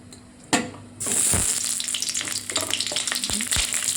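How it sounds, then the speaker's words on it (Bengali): Cauliflower drops into hot oil in a wok with a brief clunk, then fries lightly in a loud, continuous sizzle close by, with occasional scraping knocks. "প্রথমে ফুলকপিটা দিয়ে হালকা করে ভেজে নিব।"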